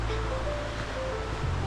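A river flows below a flat forest hiking trail on a chilly day, a steady broadband rushing of water, continuous and fairly loud with no voices over it.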